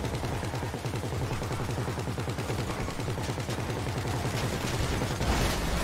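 Gunfire in GTA 5 during a sniping attack, a fast, steady rattle of repeated shots running throughout, with a slightly louder burst near the end and no voices.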